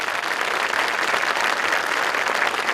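Audience at a county high school graduation ceremony gives the graduating students a steady round of applause, a dense, even wash of clapping from a large crowd, continuous and loud throughout.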